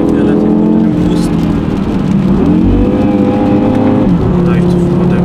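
A 2023 Audi TT RS five-cylinder engine pulls hard under boost, a loud steady drone that rises and dips in pitch with shifting load, heard from inside the car with someone talking over it.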